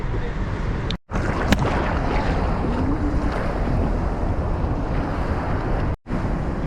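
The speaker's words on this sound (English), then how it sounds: "we are going closer and closer and closer and closer and closer and closer and closer to the waterfall" Roar of the Rhine Falls waterfall in Switzerland, heard from a tour boat drawing close to the falls, a steady loud wash of rushing water mixed with wind buffeting the microphone, with two brief dropouts.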